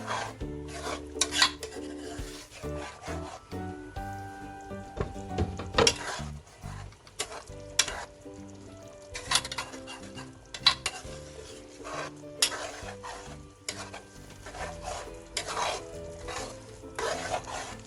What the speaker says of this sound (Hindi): और जो क्रीम है उसको अच्छी तरह से चिकन के अंदर पका लेंगे